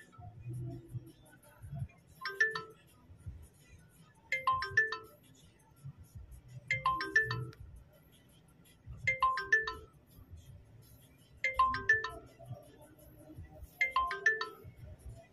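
Phone ringback tone while calling a ride-hailing driver from a hotel tower lobby: six repeating two-part ring bursts at regular intervals, fairly quiet, over soft low background hum.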